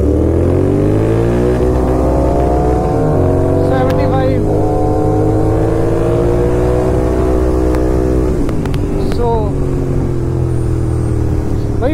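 Kawasaki Z900 motorcycle pulling hard in first gear, a loud, close engine whose pitch climbs steadily with a brief dip near the middle before rising again, with a rider talking over it.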